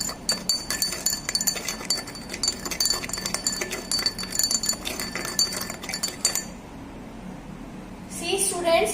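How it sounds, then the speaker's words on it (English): A glass rod stirs sand into water in a glass beaker, giving rapid, repeated clinks and taps against the glass for several seconds under a person talking, then the sound drops away before a few faint final clinks. "Mix it well with the help of glass rod."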